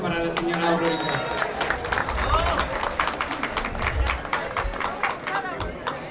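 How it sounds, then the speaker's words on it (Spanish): Clapping breaks out from an audience at a political leaders' meeting in Naucalpan for Mrs. Aurorita, a dense, mid-distance patter of hands over crowd murmur and voices, holding fairly steady before easing slightly. "Fuerte el aplauso para la señora Aurorita."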